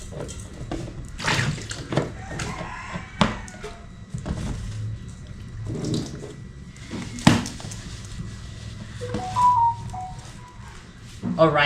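Water is poured into a pot of fish being cooked with vinegar and salt, splashing and running under ongoing talk and clattering kitchen sounds.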